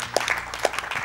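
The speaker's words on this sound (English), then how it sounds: "Claps, indeed." Hands clapping in a small room, a few distinct sharp claps spaced irregularly, close and moderately loud.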